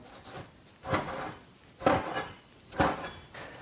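Knife chopping beef brisket into even chunks on a wooden board, four distinct cutting strokes with a rasping, woody scrape, close and clear with no talk; the blade is slightly dull.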